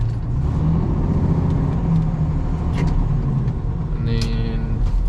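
A wheel loader's engine drones at close range as it back drags screened topsoil rejects across rutted ground. The engine holds a steady mid-pitched rumble with a brief higher scrape near the end, and the operator talks over it.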